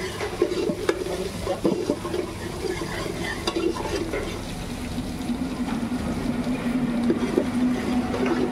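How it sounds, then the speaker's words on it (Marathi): Garlic and ginger sizzle in a hot pan while being stirred, a steady close frying crackle broken by repeated scraping and clinking of the spoon against the pan, with no talking. "लसूण अद्रक हे जरासं लालसर होऊन द्यायचं आहे आपल्याला"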